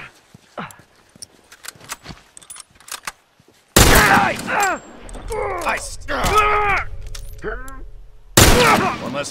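Rifle shots crack in The Last of Us, two sharp loud blasts breaking through tense play, with a voice calling out and grunting between the shots.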